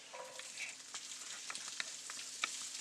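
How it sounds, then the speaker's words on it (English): Vegetables frying in a few tablespoons of olive oil in a pan over medium heat, a steady close hiss and crackle with small pops and light stirring clicks, no talking. "Got about 2 tablespoons of olive oil in there, maybe 3, and we're just going to add in our vegetables."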